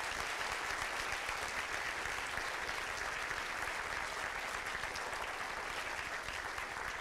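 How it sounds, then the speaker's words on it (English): Audience applause at a university design school premiere event, a steady dense wash of clapping from a large crowd that holds evenly throughout without a pause. "one more round of applause for Tom."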